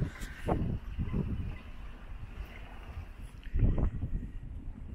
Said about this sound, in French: On a des rafales.